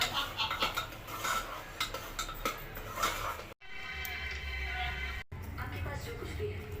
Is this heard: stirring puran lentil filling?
yes